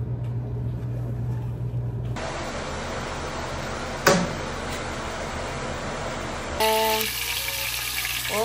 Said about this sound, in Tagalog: Magpiprito ako ng isda at saka yung daing na bangus.